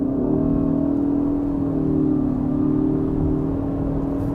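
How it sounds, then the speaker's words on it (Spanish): Ford Kuga 2021 plug-in hybrid with a 2.5 litre Duratec engine accelerating from 40 km/h, a steady rising engine drone with whirring electric motor tones heard from inside the cabin. "Aceleramos desde 40 km por hora."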